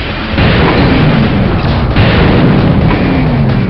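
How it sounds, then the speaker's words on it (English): Security base blowing up in the video game Hellbender: a loud, sustained rumbling blast that swells in two heavy waves across nearly four seconds, dense low boom with no voices. "Security base destroyed."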